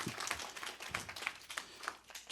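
Scattered hand claps from a small group, uneven and fairly faint, ending with a louder burst near the close.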